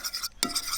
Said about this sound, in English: whisk your egg